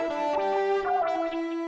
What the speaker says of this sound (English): You've got a distorted version, which is quite a soft sort of distortion